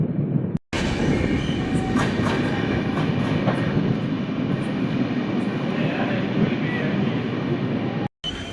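A Tambaram to Tirunelveli summer special express passenger train running on rails, heard as a loud, steady rumble with rhythmic clickety-clack of wheels over joints, close and continuous.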